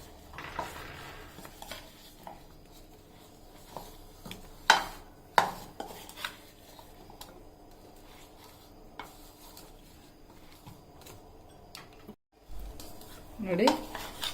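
A spoon stirs garlic ginger paste in a bowl, with soft scraping and scattered clinks against the dish, quiet and close, breaking into a few louder knocks and a sharper clatter near the end.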